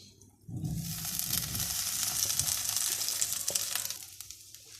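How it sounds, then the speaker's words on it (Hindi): Fried okra (bhindi) hits a hot pan of cooked-down spice masala and sizzles loudly and steadily, with a sudden onset and faint stirring noises close by. "तो हम वापस इसमें वो फ्राई की हुई भिंडी डाल देंगे"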